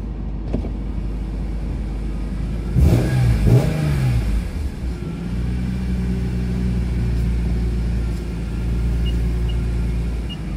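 BMW M3 engine idling in a garage as the car is manoeuvred out, with a brief rev burst near the start and a steady low rumble continuing afterwards, close and alone.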